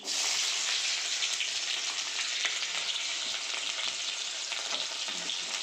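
Whole cumin seeds and chopped onion fry in hot oil in a kadai, giving a steady, loud, close sizzle with a crackling hiss that runs unbroken from start to finish, with no talk.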